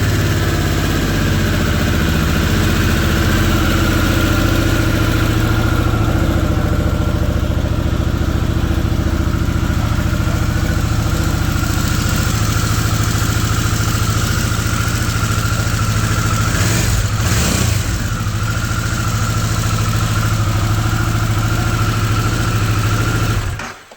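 A Harley-Davidson Sportster S motorcycle engine idles steadily with its original exhaust refitted, a loud, continuous low rumble running nearly unbroken for the whole stretch, with a brief revving swell near the end before it cuts off.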